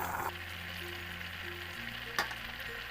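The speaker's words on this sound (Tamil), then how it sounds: "அது எள்ளு வறுத்துக்கிறோம்." Sesame seeds, with coconut roasted in the same pan beforehand, dry-roasting over a low flame, giving a steady soft crackling hiss with a few faint tonal hums and one brief louder clatter near the end.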